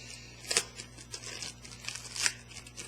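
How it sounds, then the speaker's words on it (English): Scissors snip open a clear plastic parts bag from a Tasca British Sherman IC Firefly model kit, giving a few sharp close cuts mixed with crinkling plastic, fairly quiet and with no talking. "Okay, I'm just going to cut this one open."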